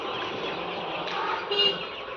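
Dense clucking and chatter from about 3,500 Sonali chickens on a poultry farm, a steady crowded hubbub with one brief sharper call standing out near the end.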